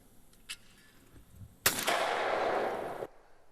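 A shotgun fires at a clay target on an outdoor shooting range, one sharp loud blast with a short trailing decay, preceded by a faint soft sound.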